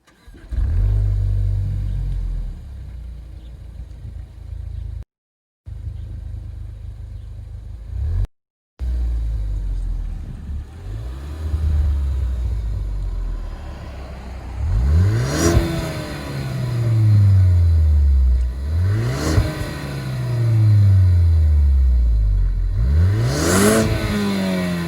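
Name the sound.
Ford Focus ST exhaust revving at low, mid and high revs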